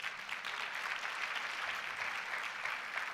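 Steady, dense congregation applause in a church, a continuous wash of clapping at moderate loudness with no talk over it.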